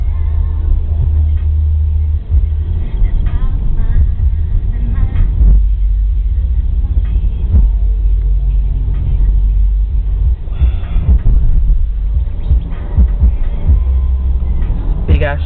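A 2012 Mercedes-Benz C-Class driving and accelerating along a quiet country road, with a steady, loud low engine and road rumble running throughout, occasional bumps, and someone talking over it.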